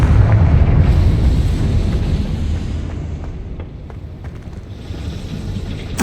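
A Confringo blasting spell explodes in Hogwarts Legacy, a loud rumbling blast that rolls on as a dense low boom and slowly fades, with a sharp crack returning at the very end.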